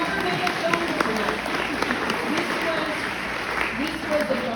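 An audience claps for a first-time filmmaker in a sustained, fairly loud burst of applause, with voices audible underneath.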